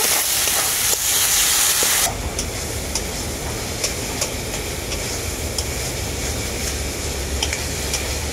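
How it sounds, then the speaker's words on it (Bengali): Chopped tomato frying with spices in a hot pan while cooking chicken curry, giving a steady, loud sizzle and hiss that opens brighter before settling into a continuous crackling fry. "টমেটোটাকেও আমি মশলার সাথে খুব ভালো করে কষিয়ে নেব।"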